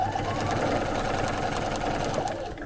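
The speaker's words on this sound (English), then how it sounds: "I'm going to stitch straight across from this point to the next point" A sewing machine quilts straight stitching across a hexagon baby quilt, a steady, rapid mechanical whir and needle chatter running continuously and close, without talk.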